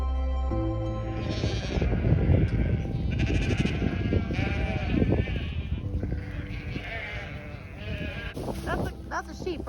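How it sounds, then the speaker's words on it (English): A young ram and other sheep bleat several times nearby on a farm, wavering loud calls in short bursts, with people talking in between. "That's a sheep, right?"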